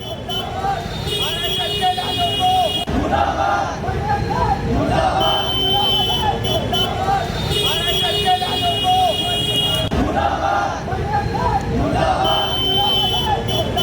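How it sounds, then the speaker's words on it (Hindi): A large crowd chants slogans outside Ganeshpeth police station in Nagpur, loud rhythmic voices rising and falling in repeated waves, mixed with traffic noise and a buzzing tone. "ये सारी भीड़ नारेबाजी कर रही है"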